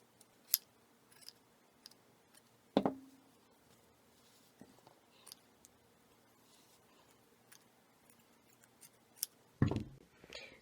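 Scissors trim fluffed chenille yarn for a crochet gnome ornament, giving a few sharp, separate snips close by in a quiet room with no talk.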